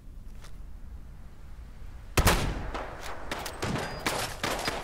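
Rifle fire in the game Fallout London: after a quiet stretch, a loud close shot lands around halfway, followed by several more scattered shots over low background noise.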